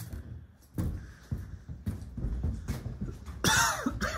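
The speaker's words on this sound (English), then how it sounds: "Yes, I'm coughing." A few sharp coughs in a row, close by, with brief pauses between them and a rougher burst near the end.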